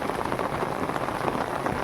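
Heavy rain falls steadily and densely, a continuous close hiss of drops on surfaces with no voices.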